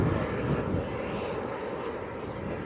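Jet2 airliner at Leeds Bradford Airport on a windy day, a steady broad engine roar held close and loud throughout, with gusty wind buffeting underneath.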